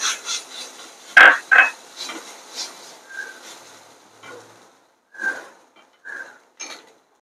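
Crushed soybean being sautéed and stirred in a pan with ginger-garlic paste for a soya sandwich filling: scraping, rasping strokes of a spoon against the pan, with a few louder clanks early on and softer scrapes after, no voices.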